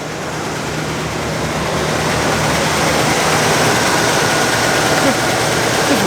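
A cold 1967 Olds 442 convertible engine runs continuously, a loud, dense, close rumble holding steady throughout without clear breaks.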